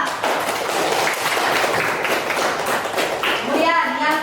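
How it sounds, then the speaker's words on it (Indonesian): A classroom of children claps together in a steady patter that lasts throughout, with young voices chattering underneath and a brief whistle-like tone near the end. "Tepuk tangan untuk Muhammad Rifa."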